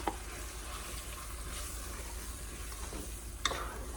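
Marinara sauce in a pot on the stove simmers with a soft continuous bubbling hiss, stirred now and then with a faint scrape of the spoon, quiet and close without speech.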